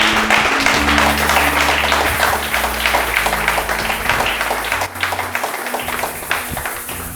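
A congregation at a Christian church service claps and acclaims the Lord: a dense, steady wash of applause and crowd noise carries on throughout, over sustained music.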